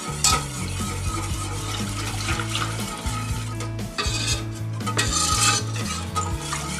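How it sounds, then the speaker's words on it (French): A whisk stirs a thickening white sauce in a pan for spinach lasagne, giving continuous scraping and swirling strokes against the metal with repeated clinks. The sound is close and steady, and no one speaks over it. "Je remue de façon à ce qu'on n'ait pas de grumeaux."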